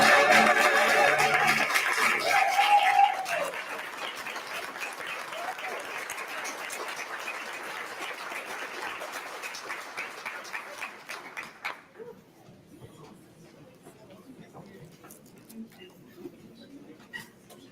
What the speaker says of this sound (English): Please give another round of applause for my Spelman College classmate, Nicole Bod